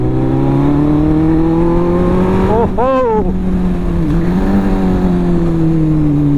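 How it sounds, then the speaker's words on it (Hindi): A Suzuki Hayabusa superbike runs loud and close with a steady engine drone, then gives one sharp throttle blip that surges and falls before settling back to a cruising hum. A voice briefly exclaims over it. "पर बूसा बहुत ज़्यादा लाउड है यार, बहुत ज़्यादा लाउडनेस करती है यार ये भी।"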